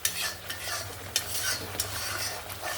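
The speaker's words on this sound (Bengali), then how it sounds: "আমি আবারও একটুক্ষণ কষিয়ে নেব।" Spices for a homestyle Bengali egg curry are stirred and fried in a pan, with a steady sizzle broken by several scraping strokes of the spatula, close and fairly quiet.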